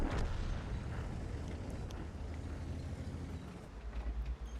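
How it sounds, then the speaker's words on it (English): A World of Tanks tank gun fires a high-explosive shell with a deep, rumbling boom, followed by low battle rumble and engine noise fading out. "I'm gonna fire one HE style at him"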